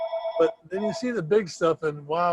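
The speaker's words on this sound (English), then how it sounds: "Sorry about that phone in the background." Telephone ringing in an office, its tone running under continuous close conversation that dominates throughout.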